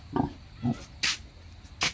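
A pig on a small Filipino piggery farm gives several short grunts and squeals, a few low oinks followed by two sharper high bursts, close and fairly loud over a quiet background.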